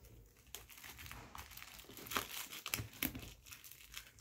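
Plastic packaging is crinkled and torn off a copy of Concise Inorganic Chemistry, a close, quiet series of rustles and sharp crackles with no talking.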